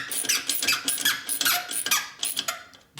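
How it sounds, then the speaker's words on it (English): A screw squeaks as it is turned in by hand during a top-end rebuild of a 2004 Harley-Davidson FLHT Twin Cam touring motorcycle, giving thin, repeated high-pitched squeals in quick, uneven bursts up close. "Squeaky screw, but not as bad."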